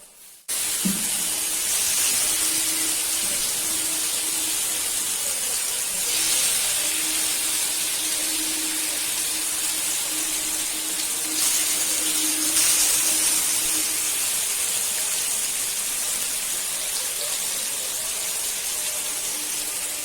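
Fish frying in hot oil in a home kitchen, a loud, steady sizzling hiss that starts abruptly and holds evenly throughout, with brief swells of crackle near the start and middle, alone without talk.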